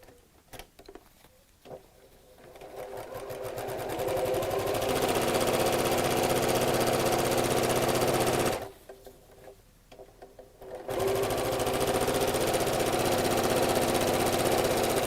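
Sewing machine stitching gathering lines in fabric: rapid mechanical whirring in two long bursts with a short pause between, close and fairly loud, with no talk.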